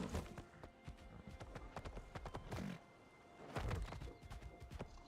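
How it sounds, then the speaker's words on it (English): Horse galloping in a video game: rapid clip-clop hoofbeats in an uneven, driving rhythm, fairly close and clear, with a brief pause midway before the pounding resumes. "Run, horsey, run!"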